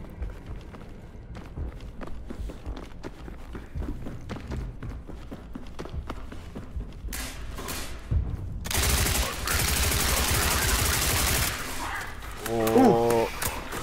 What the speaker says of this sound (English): I'm now at the giant firefight where we start fighting people.